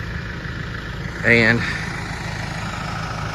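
A tractor engine idles in a steady low rumble while pulling a heavy tree top. Someone speaks over it briefly, with a short rising tonal sound in the middle.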